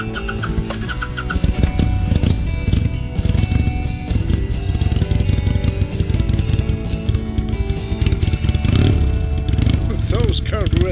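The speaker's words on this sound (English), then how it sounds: "Those carbureted bikes. You never know how much choke it needs. However, it sounds delicious." Carbureted Harley-Davidson motorcycle engine running loud and close with a steady, rough rumble throughout, and a voice talking over it.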